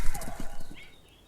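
Dark horses with fell hounds and armoured riders galloping away into the evening sky in an audio drama, a brief burst of close, rapid clip-clopping hooves that fades out within a second.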